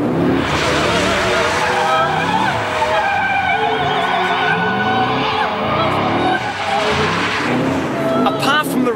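Tyres skid and squeal as a Holden HSV W427 muscle car spins donuts, its engine revving hard and rising and falling in pitch throughout, loud and close.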